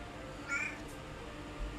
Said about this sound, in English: As the cat decides to get in the way.